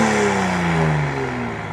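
A Toyota A90 Supra engine runs up close with a loud, smooth, steady drone whose pitch sags slightly as it settles, with no voices over it.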